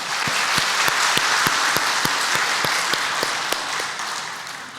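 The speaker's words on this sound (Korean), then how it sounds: "자, 하나님께 영광의 박수 하겠습니다." A crowd at a church service applauds steadily for several seconds, dense clapping with a few sharper claps standing out, fading slightly at the end.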